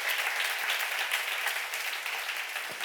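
A church congregation at a sermon seminar breaks into a full, continuous round of clapping, dense and fairly loud, holding steady for a few seconds before easing slightly.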